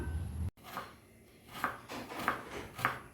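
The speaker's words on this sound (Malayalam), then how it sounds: "പിണ്ടി ഇതുപോലെ വളരെ നൈസായി അരിഞ്ഞെടുക്കുക" Banana stem being finely chopped with a knife: a short run of crisp, evenly spaced chops at close range, each a quick dull thud, with no talking.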